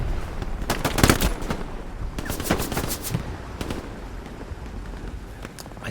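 Machine gun fire in the Hell Let Loose video game, loud rapid bursts of automatic shots with short gaps between them, over a constant rumble of battle noise.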